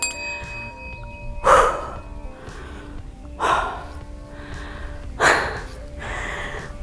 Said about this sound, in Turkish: Bu nefes nefese kalmayı seviyorum.